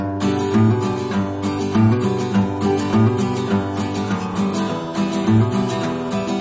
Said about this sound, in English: a country pattern that when you do it faster sounds like a bluegrass pattern